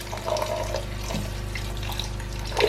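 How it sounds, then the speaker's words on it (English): A cucumber is rinsed under a running kitchen tap, a steady close hiss of flowing water splashing over the vegetable and into the sink for a few seconds. "I washed it, but I'll just still give it a good rinse."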